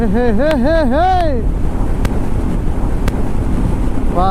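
Loud, steady roar of strong wind buffeting the microphone while riding, with a voice singing or calling out briefly at the start.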